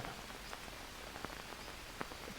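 Steady rain falls in the survival video game Green Hell, a dense even hiss of downpour with a few sharper drops tapping now and then, fairly quiet and with no talk over it.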